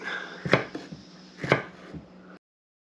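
Knife chopping mushrooms, onions and green peppers on a board: two sharp, distinct chops about a second apart, each followed by a softer tap, close and clear.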